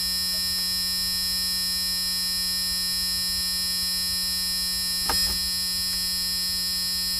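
A transistor-and-diode fire alarm circuit, with a heated soldering iron acting on its heat sensor, gives a steady, continuous electronic buzzer tone over low mains hum, broken only by a brief click partway through.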